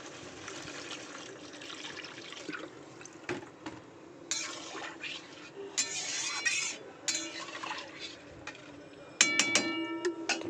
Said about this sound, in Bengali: এবার পরিমাণ মতন মাছের ঝালে জলটা দিয়ে দেব।